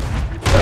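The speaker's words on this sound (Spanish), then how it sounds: "qué cañonazo de frente me pegó" A cannon shot in the pirate game Sea of Thieves strikes the player, a short heavy boom with a thudding burst of impact and a muffled rumble close by.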